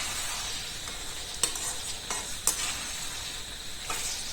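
Duck meat with ginger-garlic paste sizzles quietly in a pan while being stirred, a low continuous frying hiss broken by a few sharp spoon scrapes against the metal.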